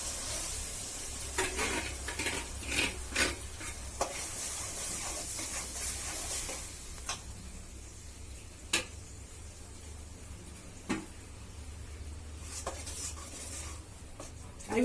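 Tomato puree going into a hot pan for fish curry, with a steady sizzle and frying hiss under repeated scrapes, clinks and stirring knocks of a utensil against the pan, close and fairly quiet.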